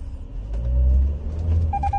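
A car on a test drive of its Toyota Safety Sense features gives a loud, close engine rumble that swells as it accelerates, with a brief high beeping near the end and no talking.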